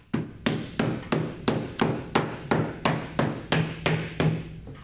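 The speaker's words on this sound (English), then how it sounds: "take your rubber mallet. Tap them in." A rubber mallet taps wooden cabinet pieces into place with about thirteen evenly spaced, close, solid knocks, each with a short thud and quick decay.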